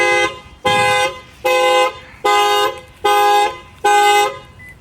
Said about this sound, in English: It's going to fire off the factory alarm.